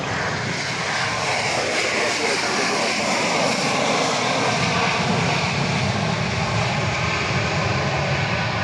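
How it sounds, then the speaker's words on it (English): An airliner in special livery on the runway at Dallas Love Field after dark, heard as a loud, steady, broadband jet roar filling the whole stretch without letting up. "Flight 2588 from St. Louis on runway DFW."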